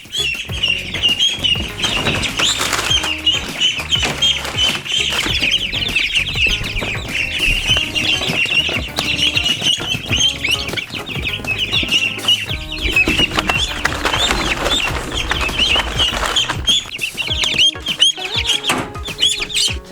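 Angry guard goose honking and calling agitatedly near ducklings in a pen, a loud, continuous stream of harsh cries up close, with other birds chattering behind and no talking.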